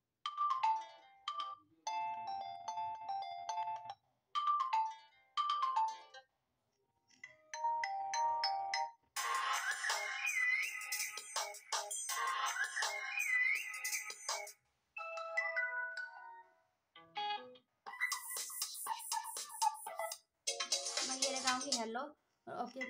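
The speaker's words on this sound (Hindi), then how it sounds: "ये रिंगटोन आ जाएंगे आपके, आपको जो लगाना है वो लगा सकते हैं।" Ringtones on a Motorola Moto G10 Power phone play one after another. Each is a short melodic chime or tune with gaps between them, and the later ones are brighter and busier.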